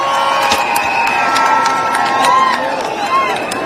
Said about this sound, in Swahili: Makofi jamani.